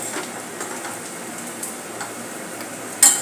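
Browned onions and kasuri methi sautéed in oil for a red chickpea gravy, a soft steady sizzle with light ticking stirs and a sharper clink near the end.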